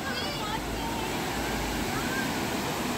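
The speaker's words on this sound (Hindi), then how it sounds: "पानी की आवाज।" Waterfall in Nainital in winter, a steady, loud broadband rush of falling water that continues evenly throughout with no clear talking on top.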